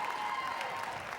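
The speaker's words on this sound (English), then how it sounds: "Another round of applause." Audience applause at a Dancing with the Stars charity dance competition in Fort Wayne, a steady wash of clapping that holds evenly for about a second with no pauses.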